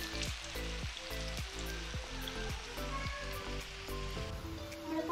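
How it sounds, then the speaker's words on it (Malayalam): Potato cheese snacks frying in oil on a low flame, a dense steady sizzle with rapid bubbling pops, close and continuous with no voices. "ഞാൻ നമുക്ക് നന്നായിട്ട് ഫ്രൈ ചെയ്ത് കിട്ടണം"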